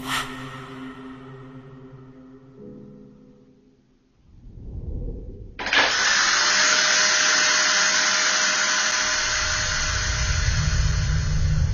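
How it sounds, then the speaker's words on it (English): An electric duster lying on a floor abruptly switches on, cutting in with a loud, steady motorized whir and airy rush that holds unbroken after a quieter stretch of low tones. "An electric duster had been resting untouched on the floor throughout the day, yet with no warning it suddenly toppled over and powered on"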